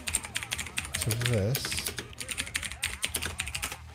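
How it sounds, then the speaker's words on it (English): Quick, uneven keystrokes clatter on a computer keyboard close by, with a voice speaking briefly over the tapping. "you can hear my typing now"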